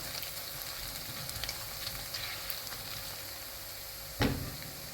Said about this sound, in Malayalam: രണ്ടും ചേർത്തിട്ട് ചെറുതായിട്ട് ഒന്ന് വഴറ്റിയെടുക്കാം